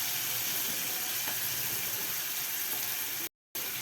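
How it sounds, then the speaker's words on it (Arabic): Minced garlic sautéing in a pan with onion, a steady hissing sizzle heard close and continuous, with a brief cut to silence near the end. "هشوحها كده تشويحة بسيطة"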